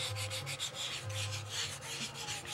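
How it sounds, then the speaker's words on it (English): Rhythmic back-and-forth scraping of sandpaper on wood for a model plane part, several close strokes in a steady pattern, no talking. "I think we're just a couple sanding swipes away from having this."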